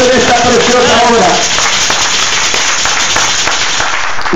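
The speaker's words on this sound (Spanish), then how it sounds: "De un aplauso a Dios en esta preciosa obra." Applause from a church congregation praising God, a dense broadband patter of many hands clapping loudly, swelling early then holding steady throughout, with a voice briefly heard at the start.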